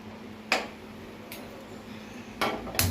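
A kadai set down on a stove top in a home kitchen, giving a few sharp metallic clanks and knocks spread over a couple of seconds against a low steady hum.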